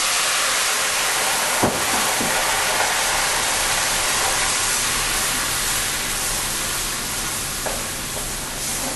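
Wine and beef stock concentrate hitting a hot pan for a turkey scallopini sauce, a loud, continuous hissing sizzle with steam that holds steady for several seconds, broken by a few faint clicks of a utensil.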